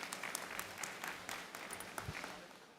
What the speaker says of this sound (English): వారికి కూడా ఒకసారి గట్టిగా చప్పట్లు కొట్టి